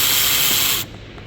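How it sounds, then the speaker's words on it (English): Ratchet wrench loosening a 40 mm brake caliper bolt on a 2016-or-newer Chevy Malibu front brake, a steady close, loud buzzing run of rapid clicks lasting under a second before stopping abruptly. "Now let's remove the caliper bolt here."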